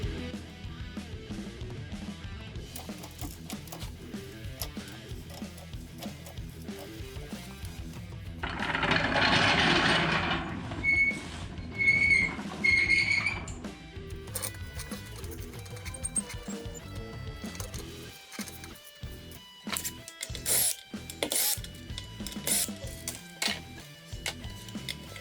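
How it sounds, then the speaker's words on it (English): A jack raising a Jeep Cherokee for brake replacement, a steady mechanical whirring and ratcheting, with a brief hissing burst midway and sharper rhythmic clicks toward the end, close up. "Raise the jack until it properly engages the jacking location."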